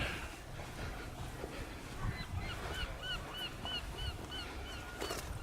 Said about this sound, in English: There's the sound of a seagull.